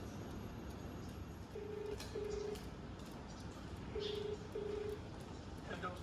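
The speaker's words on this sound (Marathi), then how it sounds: "बघूया, त्याला फोन केलाय, काय बोलतो." An outgoing phone call rings back with two double-ring tones, steady and clear over constant outdoor background noise on a city street.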